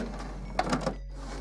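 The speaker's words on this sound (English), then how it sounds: "Now we just close the lid back up again" The lid of an HP Officejet 6950 printer shuts with a few light plastic clicks and taps over a steady low mechanical hum, followed by a brief quiet gap as the printer checks its cartridge.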